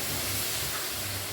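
Hot banana flower curry hisses and sizzles steadily after a little water is poured into the pan, a dense continuous broadband spit close by with no voices over it.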